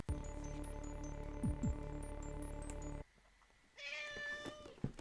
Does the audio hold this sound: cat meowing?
yes